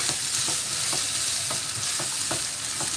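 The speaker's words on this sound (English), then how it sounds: "This will go in now, the mixed veggies." Mixed vegetables fry in a pan with a constant loud sizzle, while a spatula scrapes and stirs in a regular rhythm of soft strokes roughly every half second.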